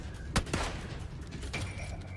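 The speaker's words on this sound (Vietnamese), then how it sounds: "Có tiếng súng bắn ra từ vị trí của Ngọc Thắng C07." Gunfire in a battle royale video game: two sharp shots close together near the start, then a fainter crack, over a quiet low background.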